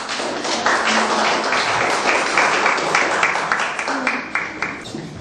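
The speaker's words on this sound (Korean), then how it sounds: "다시 한번 큰 박수로 맞이해 주시기 바라겠습니다." An audience at a 2014 Korean public debate forum claps in a dense, sustained burst of applause that tapers off toward the end.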